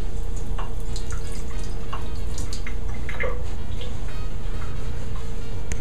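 Running water rinses a marble surface, a loud, steady splashing stream with scattered drips and patters close by.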